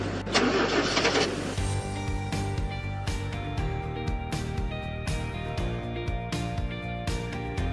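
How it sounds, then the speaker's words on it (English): A car's starter cranks the engine for roughly a second and a half before it catches and settles into a steady, close, loud running sound, alone and with no talk. "Try to start the vehicle and check whether the engine cranks slowly or doesn't crank at all."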